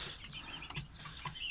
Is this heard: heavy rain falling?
no